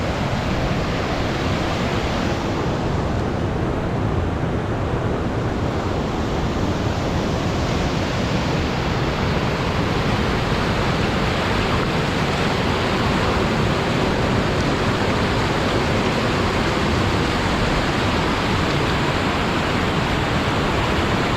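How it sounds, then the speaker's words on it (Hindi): A river rushes through Naran Valley in a dense, unbroken roar that stays loud and close throughout, like steady white noise with no voices. "यहाँ जो पानी की सुर है ना, उसका एक अपना मज़ा है"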